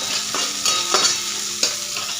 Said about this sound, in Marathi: आलं लसूणची पेस्ट बनवून घेतली, ती पण आपल्याला याच्यामध्ये टाकून घ्यायची।